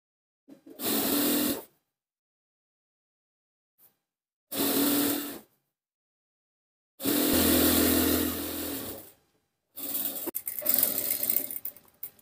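A sewing machine stitches a double-folded hem on a frill frock, running in four distinct loud bursts separated by silent pauses, the last burst more uneven and stuttering.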